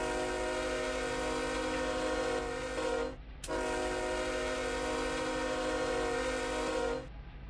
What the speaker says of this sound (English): let's just first hear for this train horn over here